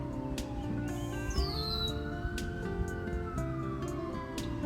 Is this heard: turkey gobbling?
no